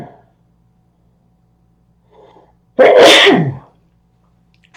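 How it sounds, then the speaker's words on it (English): A single loud, explosive sneeze with a brief breathy intake just before it, otherwise quiet. "I'm going to sneeze."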